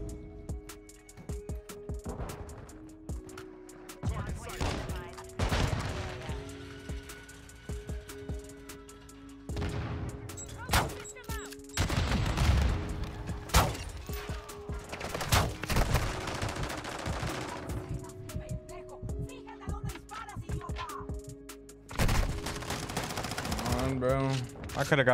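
Rapid gunfire from the Bryson 890 shotgun in Call of Duty MW2 sounds as repeated sharp bursts and clusters of shots throughout, mixed with game sounds, while a person talks at intervals.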